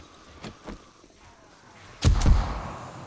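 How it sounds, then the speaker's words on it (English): A loud, deep explosion booms out and rumbles for about a second during a Day 42 horde night in the 7 Days to Die Ravenhearst mod, following a couple of fainter thumps. "That was a nice explosion"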